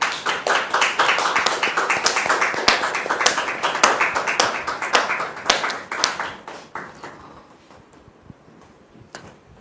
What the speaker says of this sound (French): Recevons maintenant Dame Juliette sous vos applaudissements